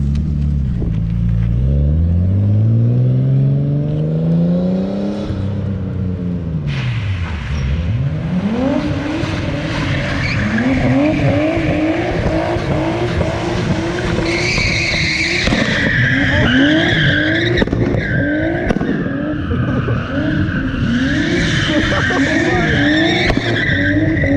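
A Nissan Skyline R32 spins donuts on a late-night street, its tires squealing and skidding continuously while the engine revs and surges loudly up close throughout.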